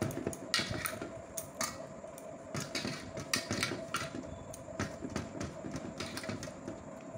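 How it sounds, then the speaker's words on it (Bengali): Shredded potatoes being washed by hand in a bowl of water, a continuous close sloshing and swishing with repeated clinks against the bowl. "এবার এই জায়গাতে সব নিয়ে নেব, ভালো করে 2-3 বার করে ধোবো"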